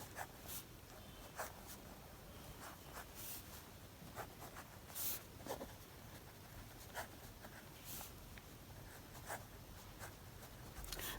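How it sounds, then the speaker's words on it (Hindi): A pen writes out a math solution for a Class 12 relations and functions exercise, faint close scratching in short irregular strokes and taps spread across the whole stretch, with no talk. "पहले हम लिख लेते हैं द सेट"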